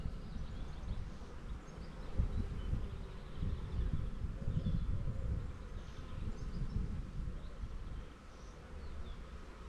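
Honey bees in an open colony during a hive inspection, a steady low dense buzz with rustling handling noise, continuous and fairly close throughout.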